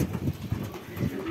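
Domestic pigeons and their young coo in a low, rhythmic series of soft rolling calls, close by and moderately loud, with no talking.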